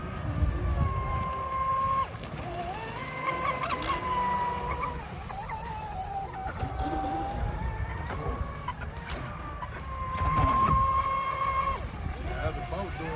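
A small high-pitched motor on a Sonic Wake V2 model speedboat buzzes and whines, rising and falling in pitch as it speeds up and slows, with voices and outdoor noise mixed in.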